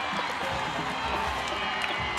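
A soccer stadium crowd at a USL Pro match between Charleston and Harrisburg roars and cheers after a goal, a dense, sustained wall of voices and whoops with scattered clapping, loud and steady throughout.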